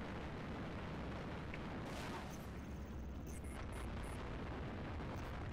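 A missile explodes in the video game Halo Reach: a loud, rumbling blast over continuous game noise, with a few brief sharp tones following.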